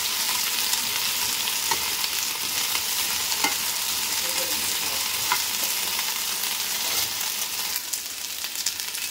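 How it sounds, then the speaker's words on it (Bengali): Potato and taro pieces frying in a pan, a steady close sizzle with occasional stirring knocks and scrapes throughout. "এই আলু আর কচুটাকে একটু লাল লাল করে ভেজে নেব।"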